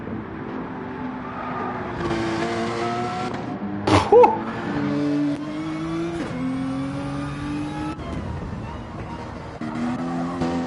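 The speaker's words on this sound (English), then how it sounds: "That Porsche sounds glorious." Porsche race car engine in Gran Turismo 7, racing at the Sardegna circuit, revving hard through gear changes under a commentator's voice, with one short sharp burst partway through.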